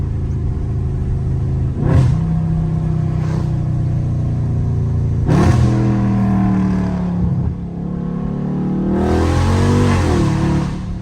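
A Dodge Scat Pack engine revs repeatedly while doing donuts in the rain, rising and falling in bursts over a steady low rumble, with hissing spray-like noise during the surges.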